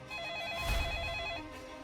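A telephone rings as a sound effect in a Korean storytelling broadcast, a sustained electronic bell tone with a steady warble, holding clear and fairly loud for nearly two seconds.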